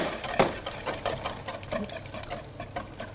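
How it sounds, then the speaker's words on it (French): Eggs beaten with white sugar and vanilla sugar are whisked vigorously in a bowl, giving a steady run of quick, close clicking and scraping strokes with no talking. "On mélange bien énergiquement les 2 sucres, vanillé et blanc, avec l'omelette, l'œuf battu."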